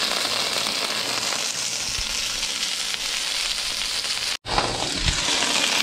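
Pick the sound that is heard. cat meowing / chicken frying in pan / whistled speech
chicken frying in pan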